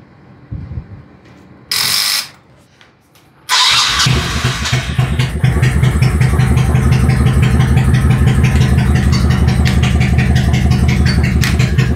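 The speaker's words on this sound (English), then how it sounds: "It'll idle pretty decent." A 1998 Honda Shadow Aero 1100 motorcycle with freshly cleaned carburetors cranks with a few clicks, fires up and settles into a close, loud, loping idle with steady rhythmic pulses.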